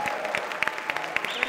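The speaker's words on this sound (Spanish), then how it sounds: "Por favor, un súper aplausote para Héctor." Audience applause at a televised music-faculty program, steady close clapping from a studio crowd with scattered sharper individual claps, no talk over it.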